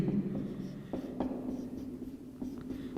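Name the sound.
writing the greater-than sign on a board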